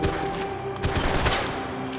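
Bursts of gunfire from the video game Max Payne 3 crackle in a quick, dense volley, several shots overlapping in a short, loud flurry.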